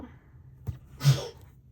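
A single short sneeze bursts out after a quick intake of breath, close and fairly soft, in an otherwise quiet room.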